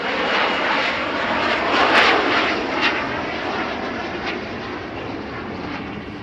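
A Harrier jet roars past at a seaside airshow in Sunderland, a loud, broad, sustained engine rush that peaks briefly and then slowly fades, with no talk.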